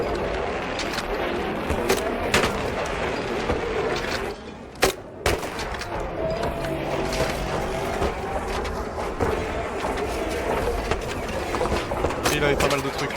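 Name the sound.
gunfire from enemies on a hill, video game Arc Raiders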